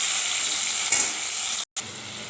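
Boiled taro stolons go into a frying pan and set off a loud, dense hiss of oil that holds steady with one soft stir. The sound drops out briefly and then resumes.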